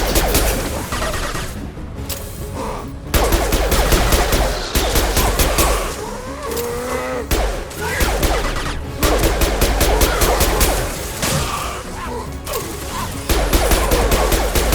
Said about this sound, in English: I'm taking friendly fire.